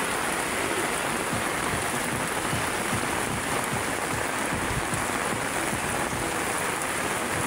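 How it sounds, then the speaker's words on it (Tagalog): Heavy rain pouring down around Manila Bay, a dense, constant hiss of drops hitting surfaces, loud and close, with no voices over it. "Malakas ang ulan, ingat pa rin tayo guys"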